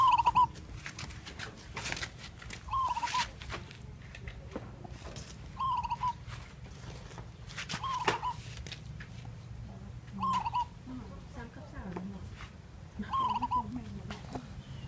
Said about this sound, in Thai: หลังจากได้ยินเสียงนกเขา มันรู้สึกยังไงครับ